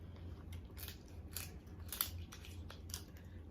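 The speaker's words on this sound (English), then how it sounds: "So I have my little scissors right here." Small scissors snip through king crab legs at a seafood meal, several crisp, close crunching cuts in an irregular rhythm over a low steady hum.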